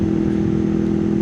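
A Honda VFR VTEC motorcycle engine holds high revs while riding, a steady, loud, buzzing drone with a constant pitch over the brief moment.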